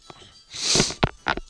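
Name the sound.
sneeze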